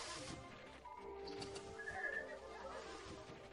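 A horse in the video game Breath of the Wild whinnies and knocks against rocks, with hoof clatter and brief rattling impacts amid busy game sounds and a faint whistle-like tone.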